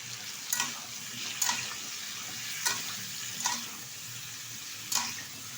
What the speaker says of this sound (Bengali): ভালোভাবে ভেজে নিচ্ছি ভেজিটেবিলটা ঢাকার কোনো দরকার নেই ঢাকনা ছাড়াই ভেজে যাবে